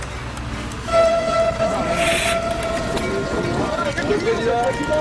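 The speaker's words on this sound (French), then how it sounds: "Le TGV, engin de 400 tonnes orange et aérodynamique, avale les 450 km qui séparent la capitale de Lyon en 2h40." An orange, aerodynamic 400-tonne French TGV high-speed train on the Paris–Lyon line in the 1980s gives a steady, loud rolling roar with a brief hiss and tonal whine, while a voice talks over it.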